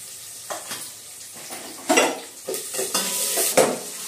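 Onions and green chillies frying in a pan, with soft sizzling, a few bursts of stirring, and utensils scraping and clinking against the pan.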